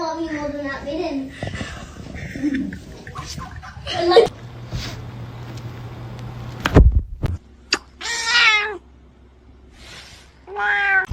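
A kitten meows several times in short high-pitched cries, close and fairly loud, mixed in with people talking nearby and a low hum.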